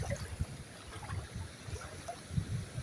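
A river in a Spanish seaside town flows with its level risen, giving a soft, uneven burble and low rushing water near the listener, moderately quiet, with no speech.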